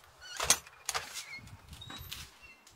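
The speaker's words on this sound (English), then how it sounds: "And the door, it doesn't lock." A door that does not lock is moved, giving a few faint, sharp rattles and clunks spread over a couple of seconds, with no talking.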